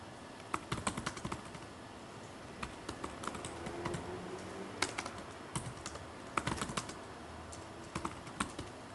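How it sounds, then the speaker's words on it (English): A room full of people typing on computer keyboards during a Fedora conference session gives scattered, overlapping key clatter, fairly faint and irregular against a quiet room. "is anyone still typing?"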